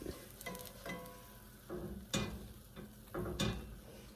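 Butter sizzles in a pan as a patty melt sandwich fries, a soft steady crackle broken by a few clicking and scraping bursts from a spatula, fairly quiet and close.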